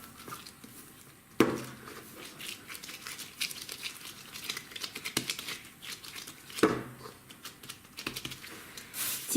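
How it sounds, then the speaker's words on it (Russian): A cellophane bag crinkles as honey cookie dough is placed inside and pressed down, in soft, irregular rustles with a couple of sharper crackles. "Теперь я беру целлофановый пакетик, перекладываю тесто, слегка его придавливаю."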